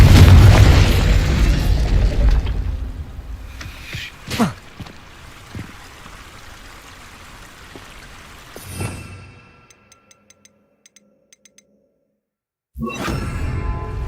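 A Confringo fire-blast spell detonates in Hogwarts Legacy, a loud booming explosion with a whooshing burst that fades into a quieter rumble, followed by faint clicks and a further blast near the end.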